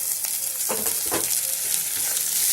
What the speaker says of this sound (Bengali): আদা কাঁচা লঙ্কা পেঁয়াজটাকে আমি ভালো করে নেড়ে চেড়ে মিশিয়ে নেব